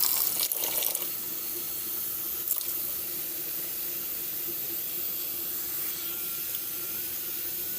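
Steady stream of water pouring and splashing into a pot of sugar and barbecue sauce, a continuous hiss that runs unbroken from start to finish, with a brief clatter near the start.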